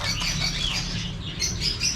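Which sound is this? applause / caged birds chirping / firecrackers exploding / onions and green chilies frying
caged birds chirping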